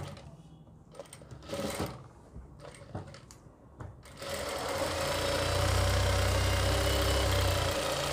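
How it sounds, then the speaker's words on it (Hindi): A sewing machine stitches a reusable baby diaper, starting with short clicking bursts as the fabric is positioned, then running steadily and loudly with a continuous whirring hum for several seconds. "ये यहाँ से इस तरीके से देखिए इसको सिलाई लगाएंगे"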